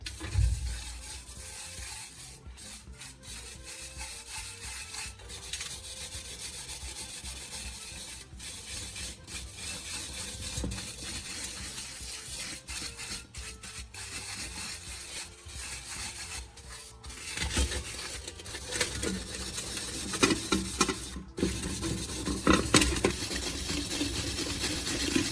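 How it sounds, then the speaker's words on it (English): A firm sponge scrubs the bottom of a pan coated in a Coca-Cola and charcoal mixture, producing a steady, close rubbing rasp in continuous small circular strokes that grows slightly louder and rougher toward the end. "take a firm sponge and start scrubbing the bottom of the pan"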